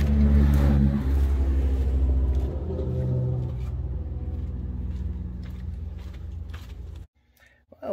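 A 1964½ Ford Mustang convertible engine idles with a deep, steady rumble close by, easing slightly in tone before cutting off abruptly near the end, with light talk faintly underneath.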